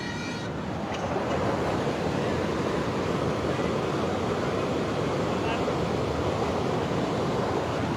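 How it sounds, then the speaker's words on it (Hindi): The monsoon-flooded Balasan river rushes in a loud, unbroken roar of churning water that fills the whole stretch evenly. "जिस बहाव में, जिस प्रचंड रूप में बालासन नजर आ रही है नदी"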